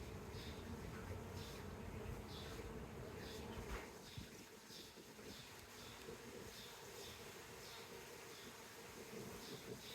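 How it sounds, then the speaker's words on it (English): Honey bees from a swarm rescued at Union Market in Washington, DC buzz in a dense, steady drone throughout, close to the hive during an inspection. "These bees from that Union Market swarm."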